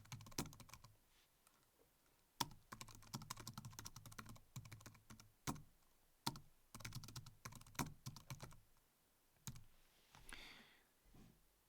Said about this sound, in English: I'm going to type this in there